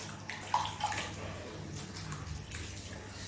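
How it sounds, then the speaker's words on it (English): Water is poured into a pot while soup ingredients are extracted for Uziza soup with utazi and ugu, a steady splashing rush with a few gurgles, no talk. "I'll still add more water."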